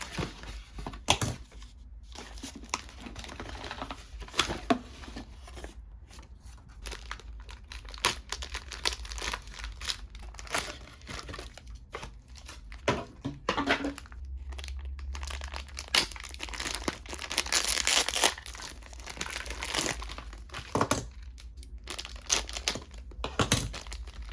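Japanese Beyblade packaging for a Dran Brave S6-60V starter set is torn open and crumpled, with irregular close crinkling and ripping bursts scattered across a quiet room, no talking.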